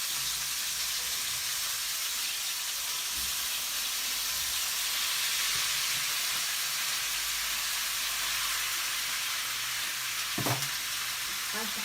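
Meat sizzles with onions in a hot pan, a steady, close frying hiss that runs unbroken throughout, with a few faint clinks and stirring knocks and no talk.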